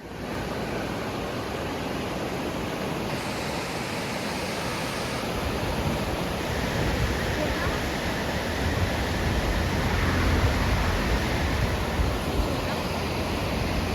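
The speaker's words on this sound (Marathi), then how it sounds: "आणि झेलम नदी, काय मस्त पाणी आहे बघा" Glacier-fed water of the Jhelum river at Pahalgam in Kashmir rushes in a steady, broadband roar, loud and continuous, swelling slightly toward the end with no clear voices.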